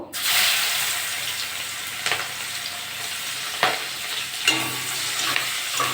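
Onions drop into hot oil left from frying fish, a loud burst of sizzling that settles into a steady fry, with a few scraping stirs of a spatula, close and without talk.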